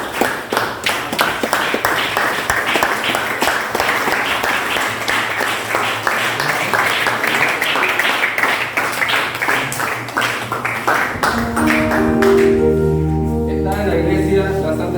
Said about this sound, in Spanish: Le agradecemos un fuerte aplauso la llegada de la niña Mical en su iglesia.